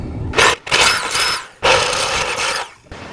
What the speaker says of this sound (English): I've never been so excited to drill a hole